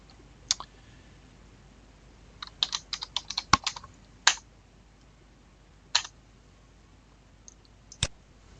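Keystrokes on a computer keyboard while names are entered into pedigree software, irregular bursts of crisp clicks in short clusters with pauses between, close and fairly quiet, no talking.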